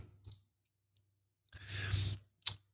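A single mouse click on a copy button in Adobe Illustrator, with a few faint clicks and soft handling noises around it, quiet and close in an otherwise silent room.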